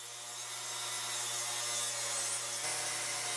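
A table saw rips a wooden board with the fence set three inches wide, giving a steady, close, continuous whine over a low motor hum, heard alone.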